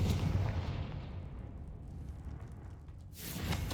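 Confringo explosive spell cast in the Hogwarts Legacy video game, a dense rumbling blast texture that swells, dips slightly, then surges again near the end, loud and continuous with no voice over it.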